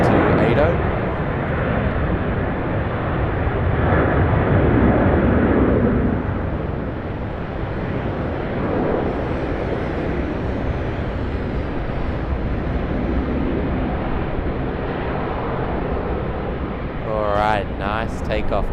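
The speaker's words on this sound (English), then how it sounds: "Nice takeoff there from the Jetstar Airbus A320 in the Pride livery." Jetstar Airbus A320 in Pride livery taking off from Sydney Airport, a steady broad roar of jet engines holding loud and constant throughout, with a brief voice near the end.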